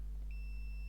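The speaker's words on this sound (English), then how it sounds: "Listen for the beep" A continuity tester on a Samsung Galaxy Watch Active screen replacement gives one steady high electronic beep from about a third of a second in, holding to the end over a low mains hum.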